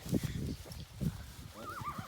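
A draft horse mare whinnies loudly up close, with a rising and falling neigh near the end and heavy snorts and breaths before it.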